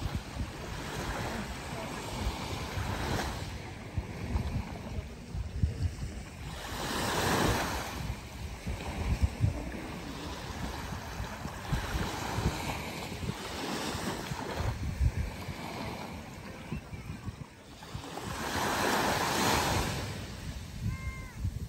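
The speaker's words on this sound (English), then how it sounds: "One last video coming up, just to remember the peaceful beauty of the ocean." Ocean waves and surf roll in off Marco Island, Florida, in steady swelling washes, with a few louder surges and wind buffeting the microphone throughout.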